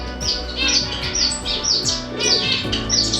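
Zebra finches and other finches chirp repeatedly in an indoor bird room, a rapid run of bright, close tweets and short calls overlapping in an uneven rhythm.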